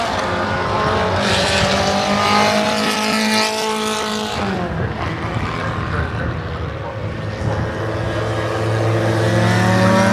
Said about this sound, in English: these are the Jim Clark cars